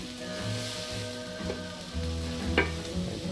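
Beef burger patties sizzle steadily on a barbecue flame grill, a continuous close hiss with a few small pops and one sharper metallic tap near the end.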